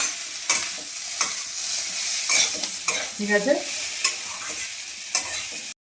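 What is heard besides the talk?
onions frying in oil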